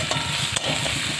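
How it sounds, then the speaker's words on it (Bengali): Potato and tomato curry stir-fried in a pan, giving a short, steady close sizzle with light stirring throughout. "এগুলো দিয়ে সব দিয়ে কষে নেবো।"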